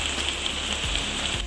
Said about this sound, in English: You may be able to hear the rain in the background on the conservatory roof